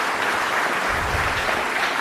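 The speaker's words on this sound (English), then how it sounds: "So please give him a round of applause." Audience applause at a county government State of the County address, a steady broadband wash of clapping at moderate level throughout, with no voices.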